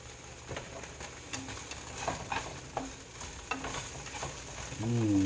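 Sausage on a back burner and hash browns on a front burner of a stovetop fry with a steady low sizzle, broken by soft scraping and stirring taps as the food is moved around, with a louder burst near the end.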